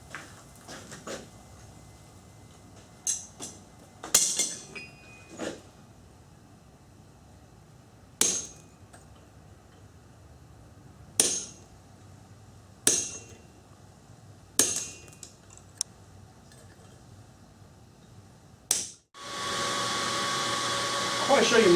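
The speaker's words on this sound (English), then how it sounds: "we're going to chisel cut the top" Chisel cutting lawnmower blade steel on an anvil, a slow series of about ten sharp metallic hammer strikes spaced a second or more apart, followed by a loud, steady roar of rushing air like a forge blower.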